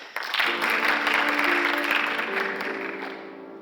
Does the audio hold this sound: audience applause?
yes